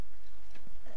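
Horse hooves clip-clop in The Last of Us, a few close, distinct knocks in one brief burst over a faint game background.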